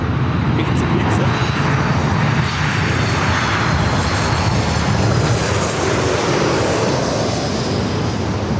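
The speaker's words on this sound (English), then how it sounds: "Got the Singapore's 777-300ER heading it back to Tokyo Narita, heading up for north to side at takeoff." A Singapore Airlines Boeing 777-300ER taking off at LAX roars loudly and steadily, a dense broadband jet rumble that fills the whole stretch without letup.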